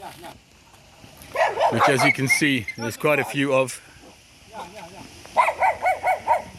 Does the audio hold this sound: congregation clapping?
no